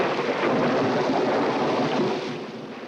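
A thunderstorm with steady heavy rain and a broad rumbling roar of thunder, a dense continuous wash that swells and then eases slightly toward the end, with no voices.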